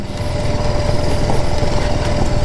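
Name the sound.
BMW G310GS motorcycle engine on trail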